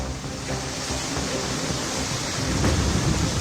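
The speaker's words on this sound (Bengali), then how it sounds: "প্রবল বৃষ্টি, জল জমেছে কলকাতার বিভিন্ন এলাকায়" Heavy rain pours over waterlogged Kolkata streets in a steady, dense roar that stays loud and unbroken throughout.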